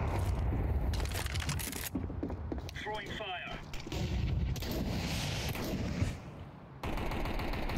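Gunfire in a Counter-Strike Wingman match on the Overpass map: sharp bursts of rifle shots and rapid automatic fire, with mechanical clicks and creaks between volleys and occasional players' voices underneath.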